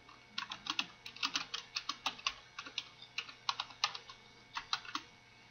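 Computer keyboard typing runs in quick, irregular bursts of close, crisp keystrokes with brief pauses between groups, with no voice over it.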